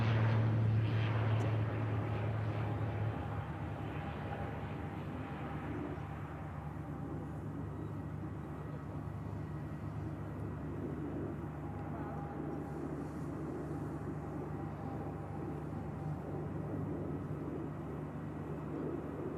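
Saudi Boeing 787 Dreamliner on final approach into Manchester, a steady, sustained jet roar with a low rumbling drone that is loudest at the start and then holds a constant level throughout.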